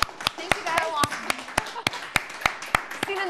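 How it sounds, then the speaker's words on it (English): Applause from an audience at a talk on building a Facebook page, heard as steady, evenly spaced claps at a brisk beat, with voices talking over them. "can we get a round of applause for Rachel?"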